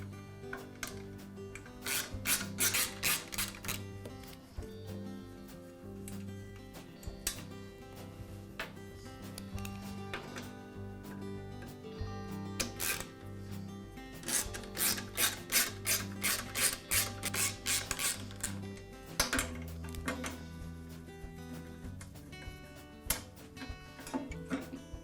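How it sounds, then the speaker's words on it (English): Tools work on the front panel of a DeWalt air compressor, giving repeated close rubbing, rasping and clicking bursts in an uneven rhythm over a low steady background hum. "I'll begin by removing the front panel from the compressor."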